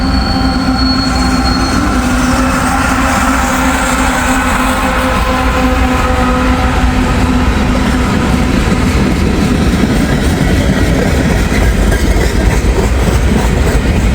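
A long CSX freight train with double DPU locomotives rolls past close by in Kentucky, loud continuous rumble and wheel noise with squealing wheel tones and rhythmic clickety-clack, no talk.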